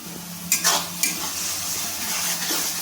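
Masala fried in a pan with chopped tomato going in, a soft continuous sizzle under a few sharp scrapes and clinks of a spoon stirring against the pan.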